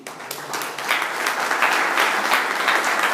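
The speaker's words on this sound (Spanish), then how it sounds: "¿Cuántos pueden dar un aplauso a Jesús?" A church congregation applauds, a dense steady wash of many hands clapping that swells after a slow start and holds for a few seconds without speech.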